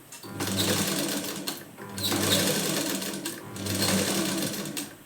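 A sewing machine stitches a blouse back in three loud, close bursts of rapid running stitches, with brief pauses between them.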